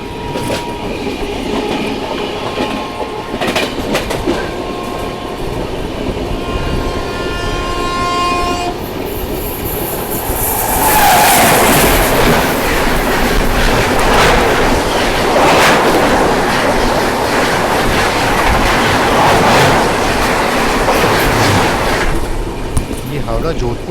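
The Howrah Barmer train approaches and rushes past another train on the line near Etawah, a horn sounding, then a loud roaring clatter of wheels and carriages that ends abruptly as it clears; voices murmur nearby.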